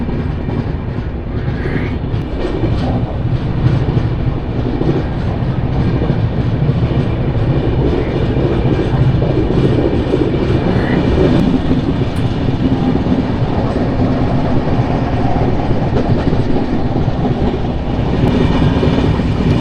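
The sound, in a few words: Tirumala Express train running after leaving Samalkot Junction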